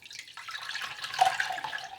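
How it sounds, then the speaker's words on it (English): Hot water infused with lavender pours through a strainer in a steady, close, trickling splash that holds for a couple of seconds, with no speech. "So I'm just going to strain off the water,"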